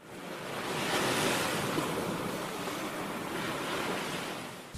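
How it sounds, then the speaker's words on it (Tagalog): Ocean waves break steadily on a beach along the Aurora coast, a continuous broad wash of surf with some wind noise and no voices. "naririnig ko yung hampas ng bawat alon sa dalampasigan"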